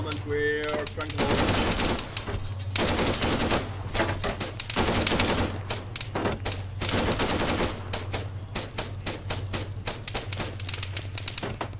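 Sustained automatic gunfire in an Arma video game vehicle assault, with loud, rapid bursts running nearly nonstop over a low engine-like rumble.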